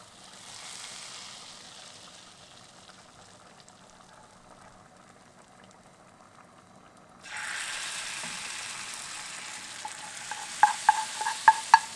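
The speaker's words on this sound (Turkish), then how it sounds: "Şöyle bir karıştırıyorum." Lentil soup sizzles in a hot pan, growing louder partway through, followed by a few sharp scraping clinks of a utensil stirring.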